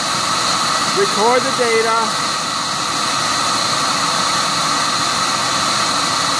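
A Portflow Analyzer flow bench motor roars with a steady, loud, even whoosh for the whole stretch, while a person briefly speaks over it.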